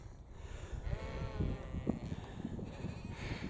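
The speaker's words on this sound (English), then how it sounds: "We've sheep everywhere." Sheep bleating outdoors on a warm country walk across the North York Moors near Carlton in Cleveland, a couple of brief calls at moderate distance over wind and ambient outdoor noise.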